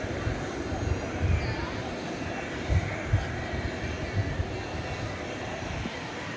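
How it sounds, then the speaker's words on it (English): A jet aircraft at Dallas Fort Worth airport at night, a steady broad engine roar heard from a distance with slight swells and faint background rumble. "There's a 20th century aircraft for you."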